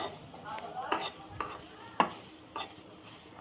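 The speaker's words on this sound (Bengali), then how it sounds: "পেঁয়াজ কাঁচামরিচ তারপরে একটু নেড়ে দিলাম" Onions and green chillies stirred in a frying pan, a low sizzle broken by a few sharp scrapes and knocks of a spatula against metal, close and sparse with no talking.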